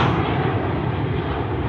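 Airliner on final approach to runway 34 left at Sydney Airport, passing low over the fence line; a steady, loud broadband engine roar holds throughout with no voices.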